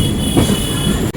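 The Kacheguda Express rolls loudly over track switches, a dense continuous rumble of wheels with a brief high squeal of metal, heard up close from on board.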